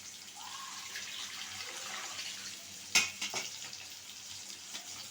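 Water is poured into pot of thick lentils in a home kitchen, a soft splashing pour with a brief louder splash midway, over a faint background hiss from the stove.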